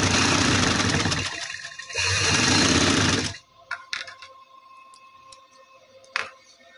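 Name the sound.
sewing machine stitching a trouser pleat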